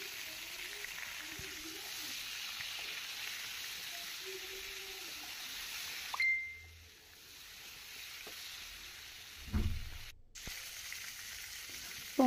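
Pointed gourd fries in hot oil with salt and turmeric in a kadai, a soft, steady sizzle throughout, broken by a few light clinks and scrapes of a utensil against the pan.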